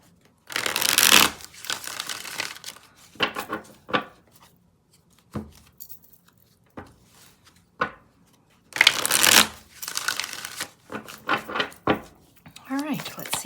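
Tarot cards are shuffled by hand in two vigorous bursts, close and crisp, with lighter card taps and handling sounds between them and a brief voice near the end.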